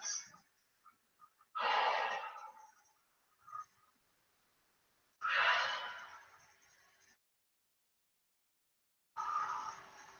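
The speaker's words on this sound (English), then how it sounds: "3 deep breaths." Three slow, deep breaths during a Pilates exercise, each a soft, airy rush spaced a few seconds apart in a quiet room, with faint small breaths between them.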